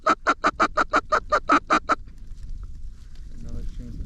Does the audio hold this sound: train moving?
no